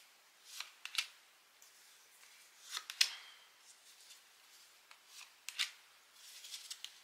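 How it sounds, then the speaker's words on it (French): Tarot cards drawn and laid out one by one during a reading: soft papery snaps, slides and light clicks at irregular intervals, close by and quiet, with no talking. "On va prendre 9 cartes."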